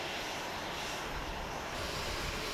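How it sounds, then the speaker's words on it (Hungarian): A passenger airplane arrives at Beijing Daxing International Airport, its engines producing a steady, loud, broad roar that holds evenly throughout. "Megjött a repülő."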